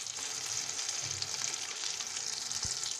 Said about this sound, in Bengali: দুই পাশ ভালোভাবে লালচে করে ভেজে নিতে হবে